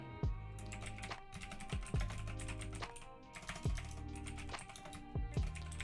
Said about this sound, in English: Probably typing in your face.